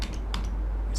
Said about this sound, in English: Use my arrow keys.